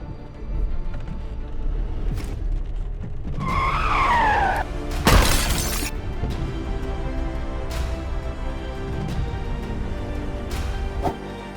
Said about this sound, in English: A train shredded a truck packed with cars as if it were paper.